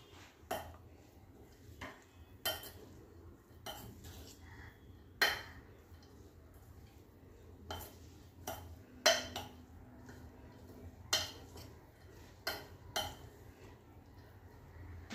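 Cornflour is mixed into a mixture in a bowl, with a spoon repeatedly clinking and tapping against the bowl in irregular, sharp knocks over quiet background.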